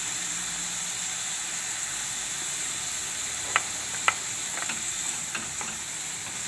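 Vegetable gravy with tomatoes and salt for a cauliflower and pea curry sizzles steadily in a pan on the gas, with a few sharp clinks of stirring partway through.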